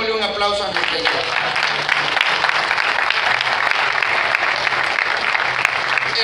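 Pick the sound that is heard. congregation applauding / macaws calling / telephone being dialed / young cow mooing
congregation applauding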